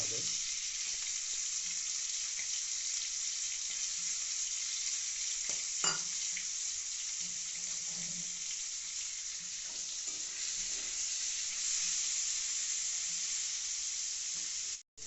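Shrimp sizzle and crackle in a hot pan, a constant bright hiss with a few scrapes and stirring knocks, no talking.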